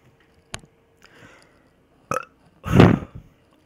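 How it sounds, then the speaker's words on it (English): A single loud, gravelly burp rumbles up near the end, preceded by a few soft clicks and small mouth noises in an otherwise quiet room. "End the video with a burp there."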